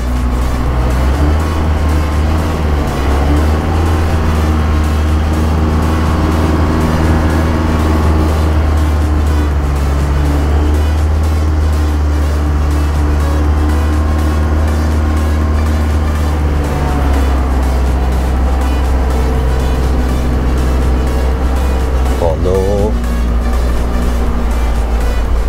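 An Isuzu Elf NPS81 4x4 truck driving on sand in low gear, its engine droning loud and steady with deep rumbling throughout, and a brief rise in revs near the end.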